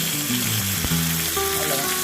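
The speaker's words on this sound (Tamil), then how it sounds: "எப்பவுமே கடுகை கொஞ்சம் உடச்சிக்கிடணும்" Mustard seeds and curry leaves sizzle in hot oil in a pan, a steady, close crackling hiss with a brief sharp pop near the middle, no voices.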